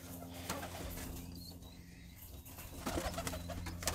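High flyer pigeons cooing in a loft while being sorted, soft low coos amid rustling and shuffling, with occasional wing flaps and general coop noise nearby.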